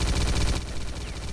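Rapid bursts of gunfire from a sniper and a machine gunner in a hall in the S.T.A.L.K.E.R. Clear Sky shooter, loud, close, dense rattling shots in quick succession with no pause.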